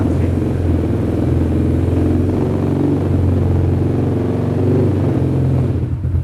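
An ATV quad sports bike engine runs close and loud, a steady rumbling drone with slight rises in pitch as it accelerates, continuous throughout with no voices.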